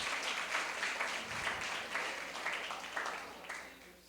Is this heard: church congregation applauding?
yes